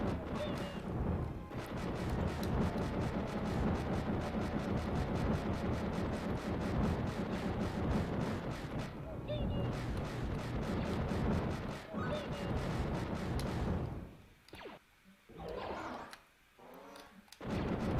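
Gunfire and blaster shots in a Star Wars video game set inside a Jawa sandcrawler, with dense rapid volleys, crashes and impacts that barely let up before a brief lull near the end.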